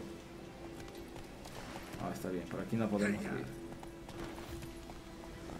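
A horse in the video game The Witcher 3 gives off rhythmic hoof clip-clops with a brief whinny-like burst in the middle, heard under someone talking throughout.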